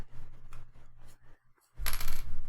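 A micro SD card pops out of a BeagleBone Blue board's slot, giving a brief, sharp click followed by a burst of close handling noise, recorded up close on its own.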